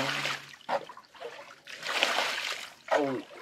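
Water splashes and splatters as someone bails water out of a flooded rice field, with uneven bursts of sloshing and trickling and a voice speaking intermittently in between.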